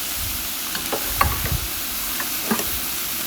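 Marinated paneer in tandoori sauce being stirred into vegetables in a pan, a soft continuous sizzle with a few scraping strokes and light knocks from the spoon.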